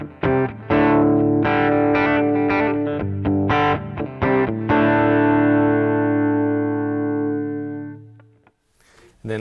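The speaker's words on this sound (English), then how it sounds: "You have a fully pushed distorted tone." A Fender Acoustasonic Strat electric guitar plays with a fully pushed, distorted tone: several chopped chords and notes, then one long sustained chord that rings out and fades, loud and close with no talking.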